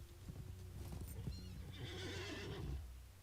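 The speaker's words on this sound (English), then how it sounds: "Elfsiga's horse is here." A horse in a video game whinnies while hooves clip-clop, the neigh rising over steady hoofbeats at moderate distance, with no talking.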